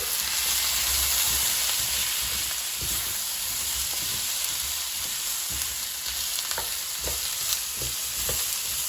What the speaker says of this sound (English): it's got heated through and the oil is sizzling